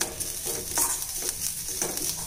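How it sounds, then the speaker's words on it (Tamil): Grated coconut with cardamom powder roasting in a pan on low heat for a sweet filling: a soft, steady sizzle with repeated scraping strokes of a spoon stirring it. "இந்த மாதிரி தேங்காய் எல்லாமே வறுத்து எடுத்துட்டேங்க"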